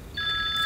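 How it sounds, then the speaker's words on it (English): A mobile phone rings in a short, bright electronic tone that starts abruptly and holds steady, close and fairly loud, with no talking over it. "I'm sorry. That's my phone."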